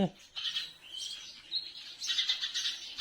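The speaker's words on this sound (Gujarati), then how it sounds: "કેટલાનો અવાજ તો આવતો જાય બહુ કલબલાટ કરે સવારના આખો દી" Sparrows chirp and chatter around a village farmyard, a busy run of quick, high tweets that comes and goes across the few seconds, fairly close and with no clear talk over them.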